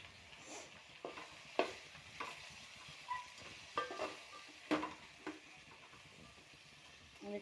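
Tomato and vegetables fry in a pan with a steady soft sizzle, broken by repeated scraping and clacking of a spoon stirring, fairly close and free of talk.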